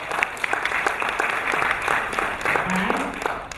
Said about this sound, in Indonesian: Tepuk tangan untuk BioGreen Science.